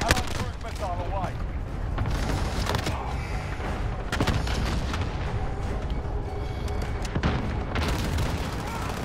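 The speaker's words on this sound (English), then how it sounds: "Cluster strike is coming." Cluster strike explosions in Call of Duty Modern Warfare, a dense, continuous barrage of booms and rumbling blasts with sharp cracks of gunfire mixed in, loud throughout.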